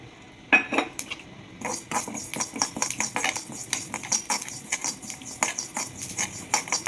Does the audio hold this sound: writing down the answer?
no